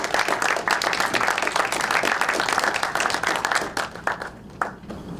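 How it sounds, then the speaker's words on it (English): Crowd at an awards ceremony honoring former state representatives claps warmly, a full burst of applause with sharp individual claps that thins and tapers off near the end. "So can we get a round of applause for Ernie Leidiger?"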